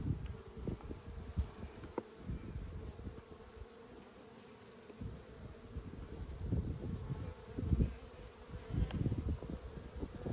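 Dense buzzing of many honeybees during a beekeeping hive inspection of an Australian nucleus colony, a steady close hum with swelling bursts as bees lift off the frames, no voices.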